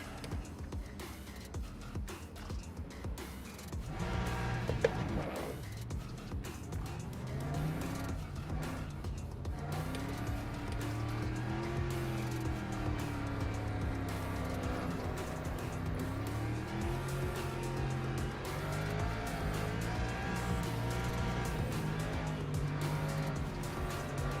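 Race cars roll through a formation lap in the racing sim Le Mans Ultimate, with a steady engine drone and gear-linked pitch swells from a packed grid, plus a few tyre and passing noises, continuous and fairly loud throughout.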